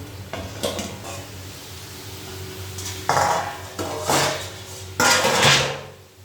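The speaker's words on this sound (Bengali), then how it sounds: "এই যে ঢাকাটা আবার তুলে নেব।" Metal lid knocked and lifted off a cooking pan, several clanks and rattles of metal on metal over a faint sizzle of frying food, the last clatter the loudest, with no speech.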